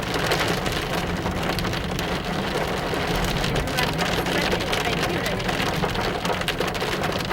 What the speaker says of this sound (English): It started raining very heavily now.